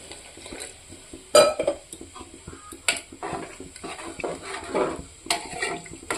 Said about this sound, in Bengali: আমি ওখানে এখানে অল্প জল দিয়ে দেব।